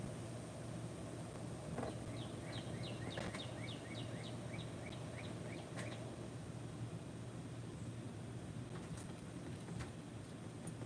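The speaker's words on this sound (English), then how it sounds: "No, it's just the bird chirping." A bird chirps in a quick series of faint, high, rapid notes over a steady room hum, with a few scattered clicks and no voices.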